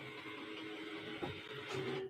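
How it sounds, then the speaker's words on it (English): A printer runs with a steady mechanical whir and hum, holding an even level throughout before cutting off abruptly at the end. "That's the printer going."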